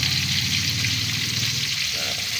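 Fish, a tuna cooked paksiw style as its broth is reduced, sizzles in a pan with a steady, loud, continuous frying hiss close by, and no one speaks.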